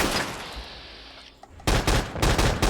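Colt Mk.40 automatic cannon in Fallout 4 firing rapid bursts, heavy booming rounds that hit loud and close in quick clusters after a fading earlier shot and a brief lull.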